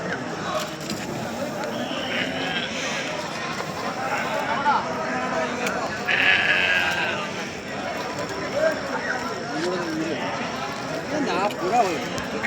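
Sheep at the Malavalli sheep market bleat close by in a couple of clear calls, under steady crowd chatter and people talking throughout.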